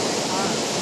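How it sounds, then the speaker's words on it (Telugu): A large, fast-flowing waterfall in the Valparai hill station area of Tamil Nadu roars as a steady, loud, broadband rush of falling water with no break. "ఆ వాటర్ ఫాల్ బాగా పడుతుంది. ఫ్లో చాలా ఉంది."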